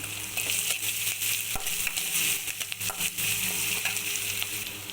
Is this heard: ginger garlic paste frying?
yes